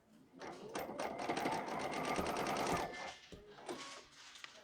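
An embroidery machine stitching a zipper bag in the hoop runs in a fast, steady mechanical chatter for a couple of seconds, then slows and stops with a few scattered clicks.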